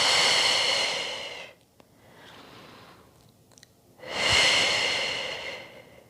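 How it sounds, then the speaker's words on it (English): A person takes slow, deep breaths during a relaxing roller recovery session for runners, two long, loud, close exhales with a quieter inhale between them, and no talking. "take some nice big breaths there. So in through the nose and out through the mouth."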